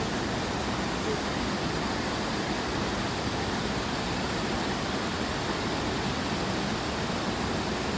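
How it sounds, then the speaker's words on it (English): A waterfall at Chania Waterfalls, a steady broadband roar of falling water that stays constant and fairly loud throughout, with no breaks. "we have another beautiful waterfall there"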